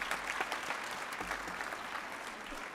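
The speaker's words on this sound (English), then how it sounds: "So that's why you deserve a huge round of applause." An audience at a welcome event applauds, with clear individual claps standing out over a steady spread of clapping at low to moderate volume.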